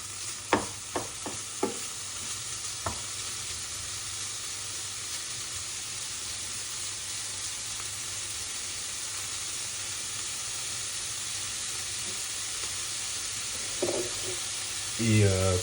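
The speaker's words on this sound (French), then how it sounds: "c'est de remuer les lardons un peu régulièrement" Lardons fry and hiss steadily in a pan while being stirred, with a few sharp clinks of a utensil near the start and more scraping toward the end.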